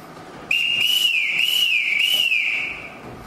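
A shrill whistle is blown in a house, one sustained, warbling blast lasting about two seconds, loud and close with no talking.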